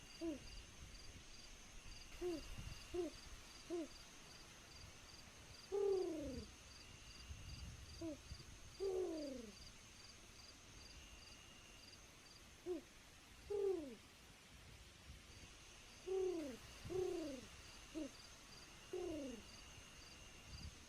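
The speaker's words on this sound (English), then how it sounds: "The owl noise!" An owl hoots in the video game Minecraft, with repeated low hoots coming in short clusters of two or three at irregular intervals over a steady ambient hum and faint high tones.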